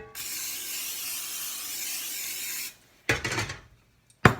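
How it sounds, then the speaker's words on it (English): Cooking spray hisses onto a pan in one long, steady burst of about two and a half seconds before making protein tortillas, followed by a short clatter of kitchenware and a brief sharp knock. "So I have now sprayed my pan."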